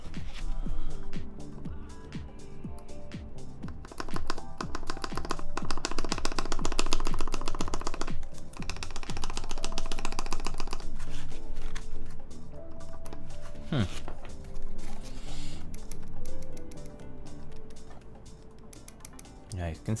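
Fast typing on an HHKB-layout mechanical keyboard during a build, with dense rapid clacks and occasional ticky stabilizer rattle, close-miked and continuous under faint background noise.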